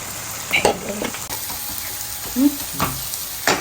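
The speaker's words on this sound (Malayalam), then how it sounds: "ആ സബോളയും തക്കാളിയൊക്കെ വയറ്റി കൊടുത്തിട്ടില്ലേ അതിലേക്ക് ഇട്ടിട്ട് നന്നായി റോസ്റ്റ് ചെയ്ത് എടുക്കുക" Beef pieces with onion and tomato being stirred and roasted in a pan, a soft sizzle underneath occasional scraping and clinks of the spoon against the pan.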